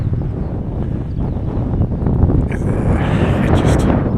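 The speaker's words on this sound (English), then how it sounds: "It is rather windy here." Strong wind in bleak Scottish hill country buffeting the microphone in a steady low roar, gusting slightly louder toward the end.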